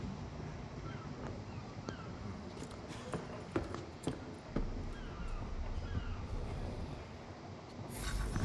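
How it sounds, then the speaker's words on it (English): Seagulls in Assassin's Creed 3 cry out in scattered calls over a steady wash of wind and sea ambience, some close and sharp, others distant. "Seagulls."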